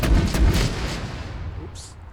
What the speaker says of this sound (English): Oh, you can use it as a machine gun.